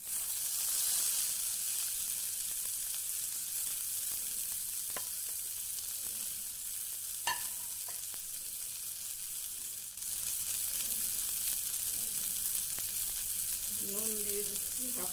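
Radish leaves hiss and sizzle steadily as they stir-fry in hot oil with nigella seeds, a continuous close frying roar with occasional clinks from stirring.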